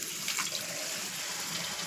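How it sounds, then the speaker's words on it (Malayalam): Tamarind water pouring into a cooking pan, a steady, even splashing stream of liquid heard close and alone for under two seconds. "നോക്കിക്കേ, നമ്മുടെ പുളിവെള്ളം ഇപ്പോൾ ഒഴിക്കും."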